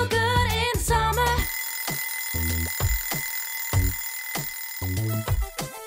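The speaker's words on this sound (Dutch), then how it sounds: "the alarm goes off." A morning alarm clock goes off with a ringing bell, starting with two dense bursts and then repeating short rhythmic rings at regular intervals, loud and close with no talk.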